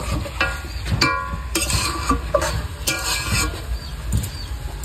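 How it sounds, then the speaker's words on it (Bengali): Meat sautés slowly over low heat in a pan, a close sizzle broken by repeated scrapes and light clinks of a spatula against the metal. "তো এখন আমি মাংসটা ভালো সুন্দর করে কষিয়ে নেব আস্তে আস্তে জাল দিয়ে"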